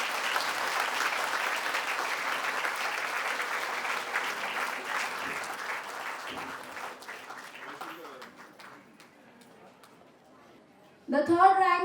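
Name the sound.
audience applause for toppers at annual day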